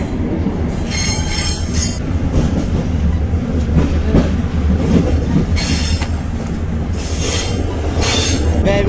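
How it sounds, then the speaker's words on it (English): A slow-moving train rolls toward a city centre, its wheels rumbling steadily on the rails while high metallic squeals rise and fade in repeated bursts; loud, close and without talk. "they can jump out of the train while it's moving."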